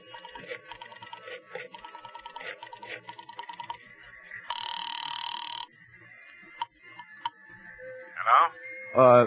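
A telephone rings during a call in a horror radio drama, a string of short repeated trills followed by a sustained tone and brief electronic bursts, fairly close and clear with no talk over it.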